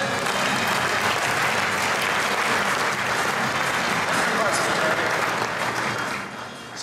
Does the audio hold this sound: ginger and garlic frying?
no